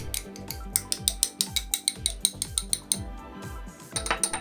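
A metal spoon clinks and scrapes in a bowl as gochugaru and other sauce ingredients for budae jjigae are added, giving a quick run of bright rhythmic taps and knocks, close and fairly quiet.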